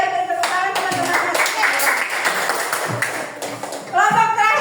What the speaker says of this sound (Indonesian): Ayo beri tepuk tangan teman-teman.